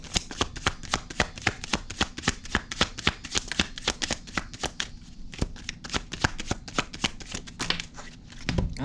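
Tarot cards being shuffled in a steady run of crisp riffling slaps and flutters, close and fairly loud, continuing for several seconds with no voices over it.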